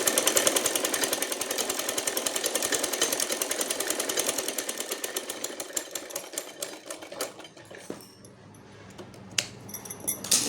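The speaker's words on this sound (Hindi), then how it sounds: "किनारे पे सिलाई लगा लेती हूँ, पूरी किनारे पे सिलाई लगा लूँगी।" A sewing machine stitching along the edges of cloth for a goddess's dress, a fast, steady mechanical rattle running loud and close for most of the clip before slowing and stopping, followed by a few scattered clicks.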